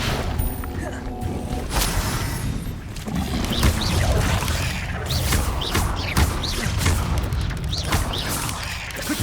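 In Hogwarts Legacy, an Incendio fire spell is cast in spell combat. It gives a loud burst followed by crackling, booming impacts and dense effects that carry on throughout.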